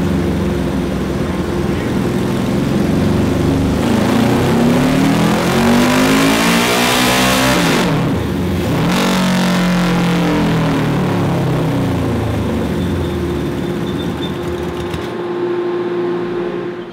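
A 550cc engine fitted to a Little Tikes go kart revs hard on a dyno, a loud close roar rising and falling in pitch through the gears with a brief dip midway before it winds down at the end.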